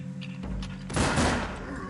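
Gunshots in a The Last of Us custom level video game, a short burst of loud, sharp shots fired in quick succession, with a dense crackling blast in the second half.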